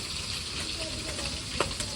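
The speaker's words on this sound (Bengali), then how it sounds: "রান্না করলাম আবার একটু ভাজতেছি" Food fries in a pan with a dense, constant close-up sizzle, a couple of light metallic clinks from stirring near the end.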